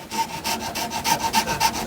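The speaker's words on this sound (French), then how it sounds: "découper avec une scie à métaux" A hacksaw cuts through the rubber of a rear silentbloc bushing on a Citroën Evasion in quick, rhythmic strokes, each pass a rasping scrape, close-up with no talking.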